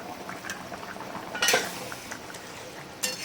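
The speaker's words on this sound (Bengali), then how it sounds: "এটা ফুটে উঠেছে, এবার আমি ঢাকা খুলব।" A lid comes off a cooking pot of boiling thin katla fish curry with potatoes: one sharp metallic scrape and clatter midway, then a second brief knock, over a low bubbling simmer.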